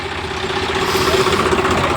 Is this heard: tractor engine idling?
yes